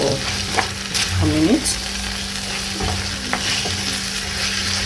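Chicken stir-fry with a dash of soy sauce sizzling in a pan, a steady close hiss with a couple of utensil scrapes, and a brief voice in the middle.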